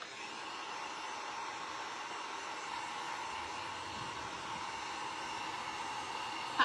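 A handheld dryer blows in a steady, loud, continuous whir while drying a freshly painted wooden heart, with no talking and a small knock at the end.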